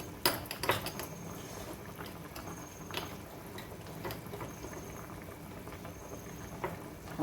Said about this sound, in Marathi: आणि इकडं उकळी आली